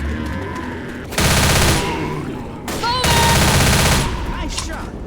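Heavy sustained automatic gunfire in the zombie shooter Left 4 Dead, two long loud bursts of rapid shots with a brief gap between them, over a background of game noise and faint shouts.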